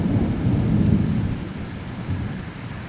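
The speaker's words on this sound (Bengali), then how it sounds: "বাজ পড়ার আওয়াজ নিশ্চয়ই পাচ্ছ তোমরা এইভাবে ঝড় উঠেছে" Thunder rumbles during a storm, a deep rolling roar that swells then fades over a few seconds, loud and alone with a hiss of wind or rain.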